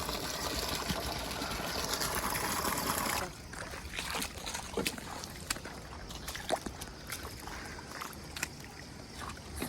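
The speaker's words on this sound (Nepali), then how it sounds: "यहाँ नि पानी भर्दैछ।" Water flowing from a pipe into a flooded rice paddy field, a continuous rushing gush that drops to a lighter burbling trickle partway through, close and steady, no talk.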